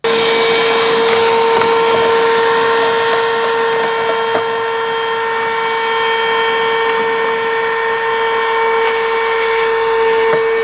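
A vacuum cleaner fitted with a small crevice tool drones steadily and loudly while cleaning debris out of the cabin air filter housing of a Ford Bronco Sport, a constant high whine with no talking.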